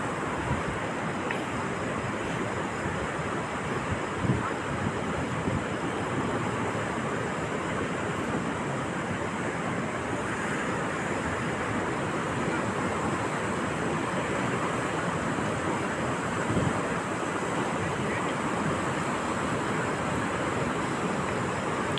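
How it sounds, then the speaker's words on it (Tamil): Surf rolling onto Black Sand Beach at Varkala, Kerala, with a continuous loud roar of breaking waves mixed with steady wind buffeting the microphone and no talking. "நம்ம வந்துருக்கிறது பார்த்திங்கன்னா பிளாக் சாண்ட் பீச்சுக்கு தான் வந்துருக்குறோம்"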